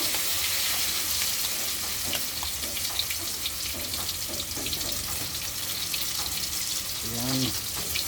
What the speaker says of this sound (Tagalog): Yan, bali magprito na tayo. Yan, mainit yung mantika.